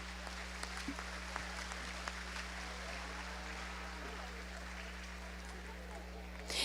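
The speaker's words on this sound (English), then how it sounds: "Please give all of our champion heifers a round of applause." An audience at a county fair 4-H champion beef heifer selection claps steadily in a dense, even patter of applause that fills the space over a constant low hum.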